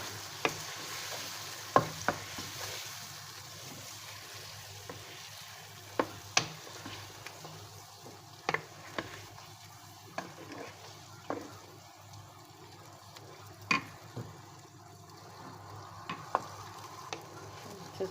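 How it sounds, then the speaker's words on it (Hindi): Onion, tomato and green chili masala sizzles and fries in a pan while a spoon stirs it with intermittent scraping clicks, steady and close, no talking. "और इसको अच्छे से चलाएँगे।"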